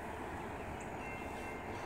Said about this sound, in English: I heard a train